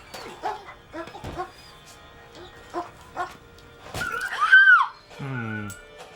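A dog in a film scene gives a few short yelps and barks, then a high, pained whimper and a wailing cry, fairly loud and close, within a tense moment that also holds muffled background sounds.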